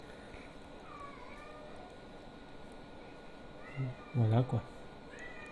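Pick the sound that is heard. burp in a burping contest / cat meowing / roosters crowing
cat meowing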